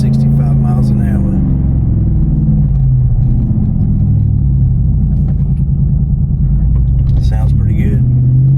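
A 2019 Ford F-150 with a Flowmaster American Thunder exhaust accelerates, its deep loud rumble rising and falling close by, with a person talking briefly at the start and near the end.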